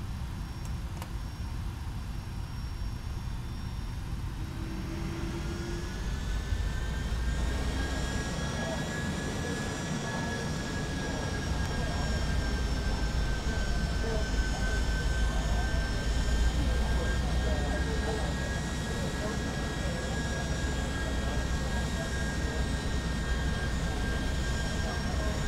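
An auxiliary power unit on a Boeing 757 in the X-Plane flight simulator runs with a steady whine, a constant mid-level hum and a few high tones throughout, joined by a broader roar partway in.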